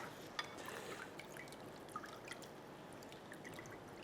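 Water drips and trickles off boiled potatoes as they are lifted out of the cooking pot for aloo gobhi, a soft, continuous patter with a few sharper drops, faint and close.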